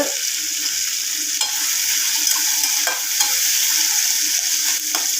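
Onion, tomato, ginger-garlic paste, cinnamon and cloves frying in a pan for a potato kurma, a steady close sizzle with occasional stirring scrapes and no talk.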